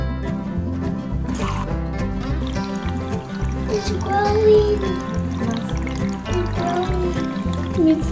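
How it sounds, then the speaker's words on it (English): A kitchen faucet runs water into an Orbeez-filled balloon, a steady close pouring and gurgling beneath a continuous low hum, with brief voices over it. "I'm gonna open the faucet."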